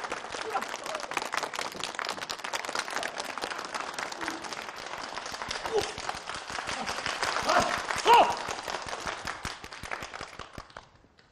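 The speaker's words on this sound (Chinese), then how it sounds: "鼓掌。" An audience at a village election meeting claps for a candidate taking the stage: dense, sustained applause with many overlapping hand claps, steady for about ten seconds before tapering off at the end.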